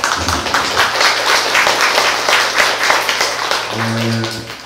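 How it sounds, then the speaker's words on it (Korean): Applause from the audience at a poetry talk concert, steady moderate clapping throughout, ending with a low sustained musical tone near the close. "다시 한번 박수 부탁드립니다."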